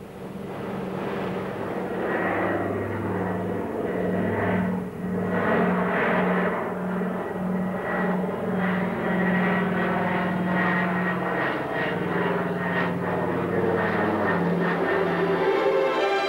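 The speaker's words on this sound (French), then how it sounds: "notre vieux Catalina roule enfin. Le train rentre, le bout de piste approche et tout de suite l'Atlantique." Engines of an old Catalina seaplane at takeoff and in flight over the Atlantic, a loud, steady propeller drone with a throbbing pulse that continues throughout, with no voices.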